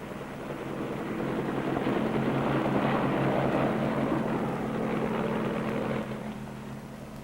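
Marine helicopter lifting off from an aircraft carrier deck, a steady loud rotor and engine roar that swells slightly and eases off toward the end, with no voices.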